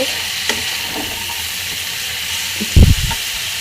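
Turnip, beetroot, red cabbage and shrimp fry in a pan with a steady, bright hiss of sizzling, broken near the end by a brief low knock as the mixture is stirred.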